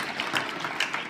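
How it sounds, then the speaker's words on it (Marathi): An audience at a hypnotism session claps to welcome someone: a steady, dense patter of many hands at moderate loudness, with small swells and no talk. "जोराने टाळ्या वाजवून यांचं स्वागत करावं"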